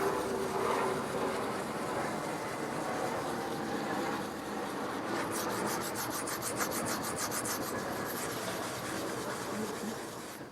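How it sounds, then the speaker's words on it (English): Leather cleaner being scrubbed into a Mercedes-Benz 600 leather seat with a brush, a loud continuous rubbing that turns into fast rhythmic back-and-forth strokes midway, close up with no speech. "Now I'm spending some time to clean in the pores and make sure that we scrub that leather so nice."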